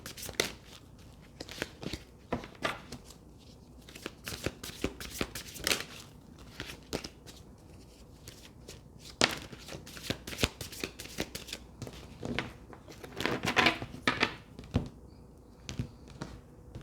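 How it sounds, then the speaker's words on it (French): Tarot cards are shuffled by hand in repeated bursts of crisp riffling and flicking, close and fairly quiet, with short pauses between rounds and no speech. "on va mélanger les cartes"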